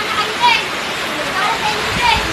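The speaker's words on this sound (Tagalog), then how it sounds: "Lakas ang ulan oh." Heavy rain falls in the Philippines as a dense, steady hiss and patter close by, with no letup across the short stretch.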